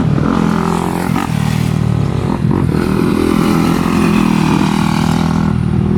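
Motorcycle on the Perris MX motocross track riding past, a loud droning engine with rising and falling revs close by.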